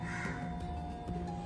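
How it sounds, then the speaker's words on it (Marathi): A crow caws a few times in short, faint bursts against a steady low background hum, with no voices. "हे कावळा का ओरडतोय"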